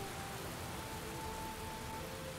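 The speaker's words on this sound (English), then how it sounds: "It's raining." Steady rain from the Heavy Rain video game, a constant even hiss of falling drops at moderate volume with no other sounds or voices.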